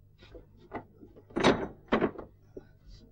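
A door pushed shut against a cold draught in a rural Marathi home, giving a couple of close wooden thuds amid faint background voices.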